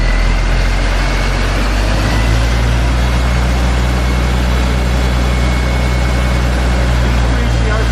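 Fire engine pump motor raised in RPM via a toggle switch toward firefighting pressure, a steady loud low diesel drone with a deep hum that shifts upward in pitch early on, then holds constant throughout.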